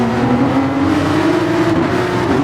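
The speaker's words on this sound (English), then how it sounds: "Many people get away nice and clean, hammering down towards the first curve." Porsche 911 race cars in the GT Sport racing game surge off the starting grid, a loud, dense, steady engine roar of several cars together, close and continuous.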